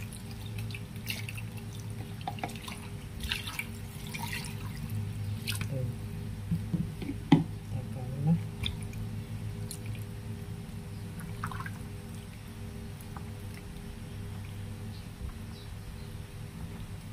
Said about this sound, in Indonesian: ini ampasnya kita kasih air lagi ya